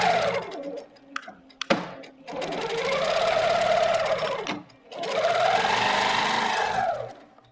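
A sewing machine stitches matchstick-style quilting in two long, loud, steady runs of rapid mechanical whirring and clatter, broken by short pauses and a sharp click.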